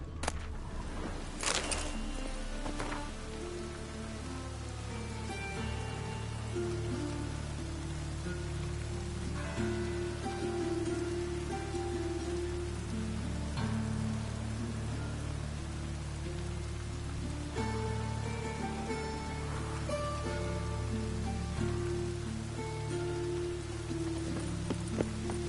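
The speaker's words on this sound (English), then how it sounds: "It's raining again." Steady rain pours down on surfaces with soft patters and drips, constant and close, over a low background hum.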